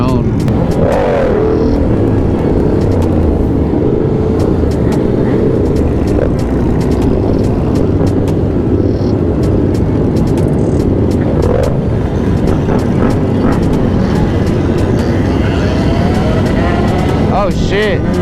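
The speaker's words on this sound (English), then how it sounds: "a bunch of girl stunners that are on their own bikes doing wheelies and stuff" Motorcycles rumble and rev loudly at a street stunt ride in a city neighbourhood, where riders pull wheelies, with a continuous dense engine roar and voices mixed in throughout.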